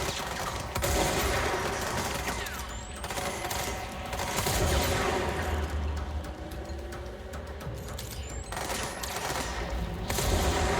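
Distant enemy gunfire in the video game Control, with steady scattered shots and bursts rattling at a moderate distance over a continuous background din, with no talking.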